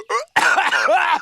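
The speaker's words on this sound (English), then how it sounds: "Patrick coughing" Patrick Star, the SpongeBob SquarePants cartoon character, gives a short, exaggerated voiced cough, a quick hack followed by a longer strained, wheezing cough, loud and close.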